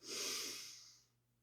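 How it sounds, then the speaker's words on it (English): One long, soft breath is drawn in through the nose during a yoga class. It sounds airy and close but faint, fades out after about a second, and no talking is heard. "Breathing."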